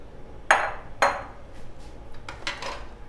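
Boiled white chickpeas, soaked overnight and pressure-cooked with salt, tipped into a bowl for Lahori chana chaat: two sharp clattering knocks close by, then softer scraping clinks of the bowl and spoon, no talking.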